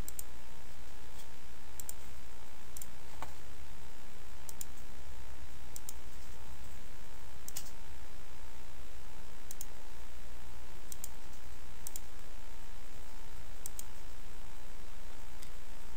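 Sharp, isolated mouse clicks at irregular intervals over a steady electronic hum, with no voices.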